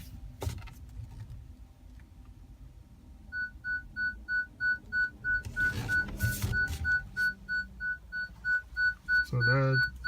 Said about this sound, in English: So that's part of the parking sensor